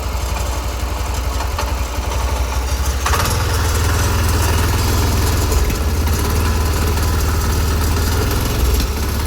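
A 7hp power weeder engine runs at a steady idle, its loud low chugging holding continuously throughout, with a brief shift in tone around the third second as it settles, and no one speaking.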